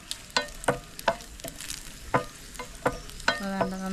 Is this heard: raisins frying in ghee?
yes